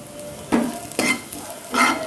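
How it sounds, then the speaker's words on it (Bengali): Onions frying in a pan and being stirred, with three quick scraping stirs over a low steady sizzle, close by and with no talking. "আমি একটু বেশিক্ষণ ধরে ভাজা ভাজা করছি, যাতে পেঁয়াজটা একদম পুরো বেরেস্তা মতো হয়ে যায়"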